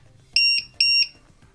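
Two short, bright electronic beeps from a battery charger, each about a quarter second, in quick succession with a brief gap, over a quiet background.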